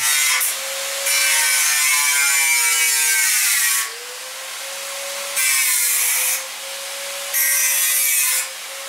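Power drill boring small holes into concrete to fix a drywall rail, three loud, close bursts of whining motor and grinding bit, separated by brief lower-pitched lulls.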